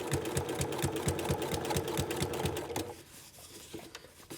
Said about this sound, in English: your goal is to also just sew as far as you reasonably can while still keeping your understitch correct